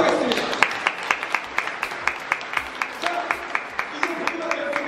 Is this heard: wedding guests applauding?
yes